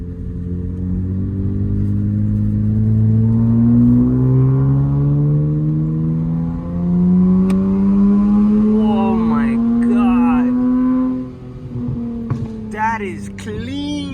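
Nissan Z with upgraded turbos, exhaust and chiller revving and pulling hard, a loud steady engine drone rising in pitch, then easing off near the end as people talk briefly.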